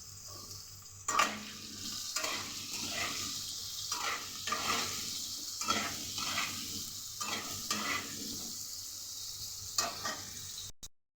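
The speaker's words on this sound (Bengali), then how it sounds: "আলুটাকে নুন আর হলুদ দিয়ে ভালো করে ভেজে নেব।" Cut potatoes with salt and turmeric sizzle steadily in a hot kadai, with repeated scraping strokes of a spatula stirring them across roughly ten seconds, close and moderately quiet.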